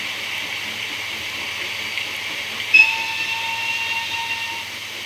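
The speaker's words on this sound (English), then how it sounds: "He was still hauling his passenger train." A steam engine hauling a passenger train rolls along with a steady hiss and rumble, a brief sharp whistle-like tone cutting in midway before the even running noise carries on.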